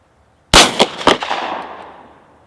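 A single loud, close pistol shot from a Glock 43 firing Winchester 124 grain NATO ammunition, with a sharp crack, a quick echo and a long fading reverberation at an outdoor range.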